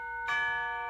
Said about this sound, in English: That's the doorbell, dear, not the telephone.